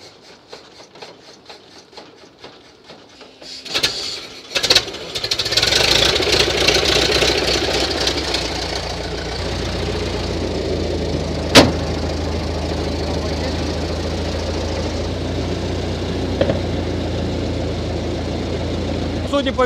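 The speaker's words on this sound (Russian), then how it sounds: "двигатель согреется и заведется сразу" A 1914 Metz Model 22 car engine, warmed with hot water, is cranked with some clicks and knocks and then catches at about four seconds, settling into a steady, close rumbling idle with occasional sharp bangs.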